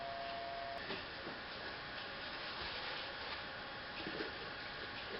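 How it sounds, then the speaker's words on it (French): Sandpaper of 150 grit re-sanding a wooden cutting board, producing a continuous close scratchy hiss with no pauses and no talking. "Je vais maintenant la ressabler au 150"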